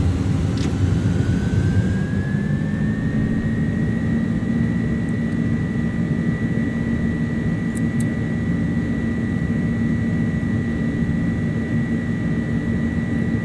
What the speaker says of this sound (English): Make sure the engine is stable and matched.